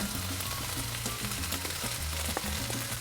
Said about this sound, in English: We'll stir it up to incorporate it, and then we'll let it caramelize for a few more minutes.